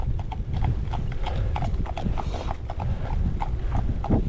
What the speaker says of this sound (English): Okay, so we got past the horses.